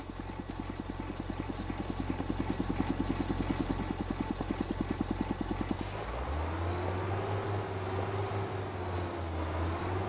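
A tractor engine in Farming Simulator 25 runs with a steady, rapid chugging pulse, then shifts around six seconds into a smoother, deeper droning hum that holds close and loud to the end.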